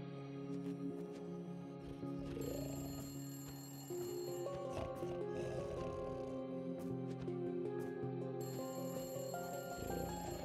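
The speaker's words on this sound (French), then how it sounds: "Faut pas répondre au téléphone?" A telephone rings in the video game Narita Boy, a bright, steady electronic tone that repeats throughout over a layer of synth music. No one speaks.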